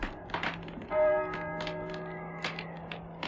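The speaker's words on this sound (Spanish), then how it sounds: "Las campanas doblan." A bell tolls with a long sustained ringing tone, layered over scattered soft knocks and clicks, heard at moderate volume.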